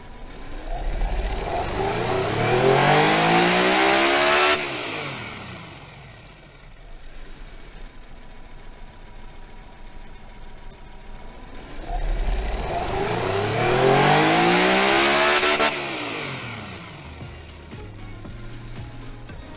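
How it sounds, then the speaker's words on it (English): Two long, loud revs from a V12 engine in the game Automation rise and fall in pitch, each building to a high whine before cutting off, with a quieter lull between them. "Let's run the engine."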